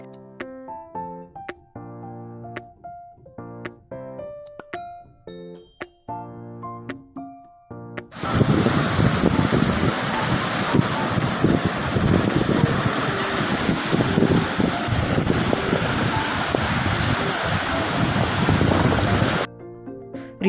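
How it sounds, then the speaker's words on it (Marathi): Sea waves wash onto a beach at sunset in a continuous loud, broad rushing roar that lasts about eleven seconds, with soft melodic music playing before and after. "किनाऱ्याला आलिंगन देणाऱ्या समुद्राच्या लाटांना बाय बाय करून आम्ही काढता पाय घेतला"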